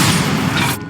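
A Bombarda spell blast in Hogwarts Legacy: one loud, sustained booming burst that fills the whole second and cuts off abruptly at the end.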